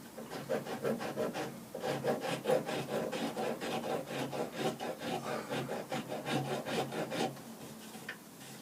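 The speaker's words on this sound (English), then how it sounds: "a little bit of sandpaper on there now" Sandpaper rubs back and forth along a wooden walking stick in a steady, brisk rhythm, close and fairly loud, easing off near the end with no voices.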